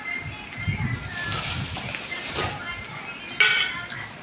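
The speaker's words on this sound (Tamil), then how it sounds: "தண்ணி ஊற்றி" Water being poured into a cat's bowl at home, a steady slosh and trickle with light clinks of the bowl and a sharper splash near the end, close by, with faint voices in the background.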